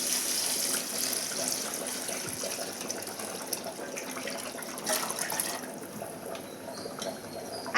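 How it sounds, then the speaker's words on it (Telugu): Water from a glass is poured over soaking basmati rice in a cooking pot, a steady close splashing gush that runs for several seconds alone before tapering off. "వాటర్ వేస్తాను ఇప్పుడు."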